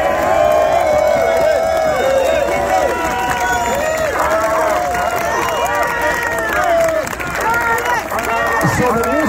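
An indoor event audience cheers and applauds for Curtis Sliwa, a loud, dense wash of many overlapping voices whooping and shouting with clapping underneath, sustained for the full stretch.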